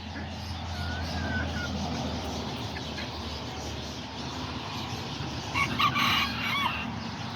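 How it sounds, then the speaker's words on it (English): An Azteca rooster crows outdoors, a single drawn-out call rising above a steady low rumble of background noise, with a few faint clucks and no talk alongside. "That's my little main rooster out here."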